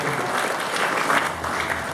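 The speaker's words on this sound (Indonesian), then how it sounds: "Tepuk tangan untuk pemenangnya Indonesia." An audience at a Ramadan religious talk in Indonesia claps in a brief, dense burst of applause, steady and moderately loud throughout.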